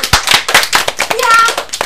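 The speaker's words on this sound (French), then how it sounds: "On peut applaudir ton arrière-grand-mère." A few people in a radio studio clap briefly for a great-grandmother, sharp close-up claps in quick bursts with a voice heard alongside.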